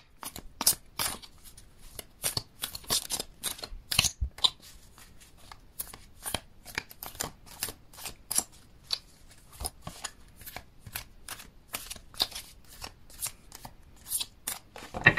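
Tarot cards are shuffled by hand in irregular bursts of crisp riffling and sliding snaps, close and clear, with short pauses between flurries and no speech.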